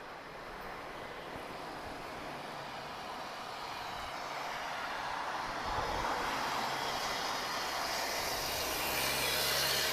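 An Airbus A330neo airliner at Lisbon Airport, its jet engines roaring in a broad rushing whine that swells steadily louder as it draws nearer.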